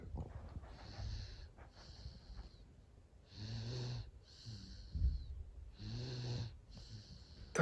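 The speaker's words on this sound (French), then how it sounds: "Elle ronfle tout ce qu'elle peut." A sleeping baby snores through a nap in a series of rhythmic, raspy breaths with a slight wheeze, close and fairly quiet, with pauses between each snore and no talking over it.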